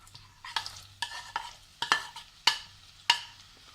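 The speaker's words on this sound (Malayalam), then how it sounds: "ഇതൊന്ന് ലൈറ്റ് ബ്രൗൺ കളർ ആകണ വരെ വഴറ്റി കൊടുക്കാം." Onion, green chilli and curry leaves stir in hot oil, with about six sharp spoon scrapes against the pan at a steady pace over a soft sizzle, close by and with no voices.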